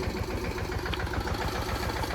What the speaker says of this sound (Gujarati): ટ્રેક્ટર બંધ થઈ ગયું હે બંધ નથી થઈ ગયું